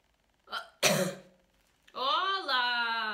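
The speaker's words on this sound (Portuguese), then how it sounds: "Tosse." A woman who is ill coughs or clears her throat sharply once or twice, loud and close, followed by a sustained voiced sound.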